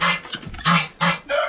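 Guinea fowl on a snowy, frozen farm give harsh, rhythmic calls, several loud close squawks in quick succession.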